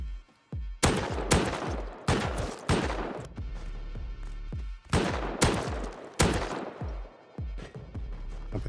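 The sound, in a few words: turret gunfire in the video game Rust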